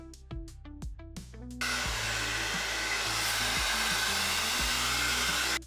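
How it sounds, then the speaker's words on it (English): A few sharp clicks and knocks, then a professional hair dryer, used for heat to open a smartwatch, switches on and blows with a loud, steady rushing whoosh until it cuts off. "since I don't own a heat gun, a professional hairdryer"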